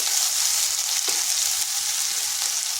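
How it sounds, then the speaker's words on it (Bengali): Potatoes fry in a pan with a dense, steady sizzle and faint crackles, loud and close with no voices. "আলুটাকে এরকমভাবে ভেজে নিলাম"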